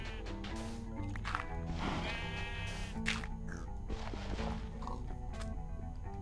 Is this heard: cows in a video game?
yes